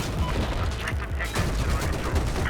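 Machine gun fire in Battlefield 4 amid tank combat: dense, continuous rattling bursts mixed with booming battle noise, loud and close throughout.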